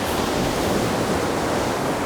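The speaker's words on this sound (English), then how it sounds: "The waves are rushing behind, right in front of me, behind you." Sea waves rushing into a cove on the south coast of England, a dense, continuous roaring wash of surf close by, with no voices.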